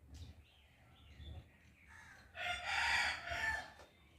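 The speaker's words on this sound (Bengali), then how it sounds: "আর আমাদের মোরগটা দেখো শুধু ডাকতেই আছে, সারাদিন শুধু ডাকবে" A rooster in a home yard lets out one long, fairly close crow after a few soft clucks and calls, with no one talking.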